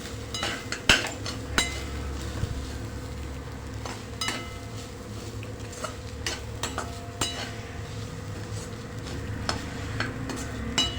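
Tender coconut flesh sautéed in a pan, a steady low sizzle with occasional spatula scrapes and clinks against the metal.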